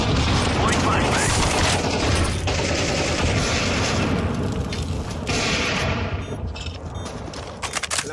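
A flashbang grenade goes off in the Counter-Strike 2 video game amid heavy gunfire, a dense loud burst of crackling shots and blasts that fades toward a ringing, thinned-out tail near the end.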